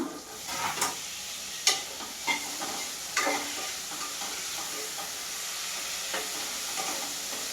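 Onions and tomatoes fry in a pan with a steady loud sizzle, punctuated by several scraping stirs and clinks of the spoon against the pan.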